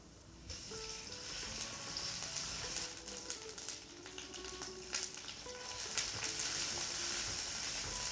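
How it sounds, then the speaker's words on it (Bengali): Potatoes fry in a wok with ginger paste and grated coconut, giving a continuous crackling sizzle with scattered sharp pops and light stirring clicks throughout. "এবার আলু দিয়ে কিছুক্ষণ ভেজে আদা বাটা আর কোরানো নারকেল দিয়ে কষিয়ে নেব।"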